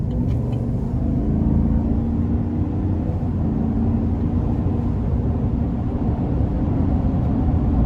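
A 2022 Chevy Silverado 1500 Trail Boss with its 6.2-litre V8 pulls away under moderate throttle, a steady, loud low rumble of engine and road noise holding evenly from the cabin throughout.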